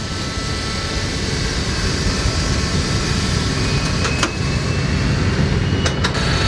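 An Ilyushin Il-14 piston airliner runs its engines on the ground during a landing-gear run-up, a loud, steady, close engine roar with a few brief clicks near the end.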